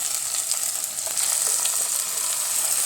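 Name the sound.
sizzling as ground paste is sautéed with onion and tomato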